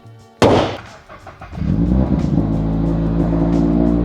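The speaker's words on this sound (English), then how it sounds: "So we're gonna go on the highway and drive around for a little bit and burn off this old 91 gas." A turbocharged Toyota GR86 tuned for E85 fuel, still running on old 91 gas, lets out a sharp burst, then pulls hard on the highway with a loud, steady engine drone. No talking.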